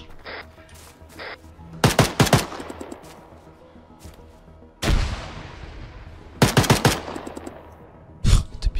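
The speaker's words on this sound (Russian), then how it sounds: "Я стреляю." Gunfire in the ArmA 3 military game during a large multiplayer battle over a village, with a sniper's position defended: several loud bursts of rapid shots with echoing tails, separated by quieter gaps.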